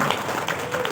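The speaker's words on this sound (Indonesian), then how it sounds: "Boleh tepuk tangan dulu Bapak Ibu sekalian." Brief, fairly loud burst of audience clapping at a discussion forum on food estates and transmigration in Papua, with a steady wash of many hands.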